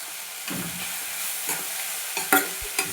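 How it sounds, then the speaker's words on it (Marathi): A breakfast dish with coriander stir-fried in a pan: a continuous close sizzle with several scraping stirs and a couple of louder utensil knocks, no talking. "आता ह्या ठिकाणी कोथिंबीर टाकून घेतलेली आहे थोडंसं परतावून घ्यायचं"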